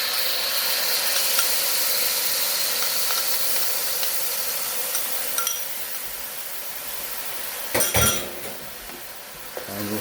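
Shrimp pad thai sauce sizzles steadily in hot oil in a pan, a constant hiss broken by a few clinks and scrapes of a utensil stirring near the end.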